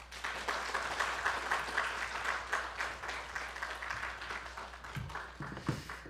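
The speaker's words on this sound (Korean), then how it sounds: "다 같이 환영의 박수." Welcome applause from a church congregation at a Sunday service, sustained clapping from the gathered crowd that thins out toward the end, with a few louder scattered claps near the close.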